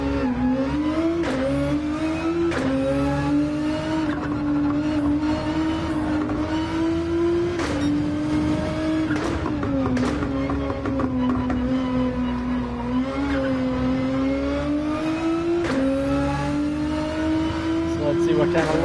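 A Porsche 911 laps a race track in the video game Gran Turismo 7, its engine droning and rising and falling through gear changes and corners, with someone talking over it throughout.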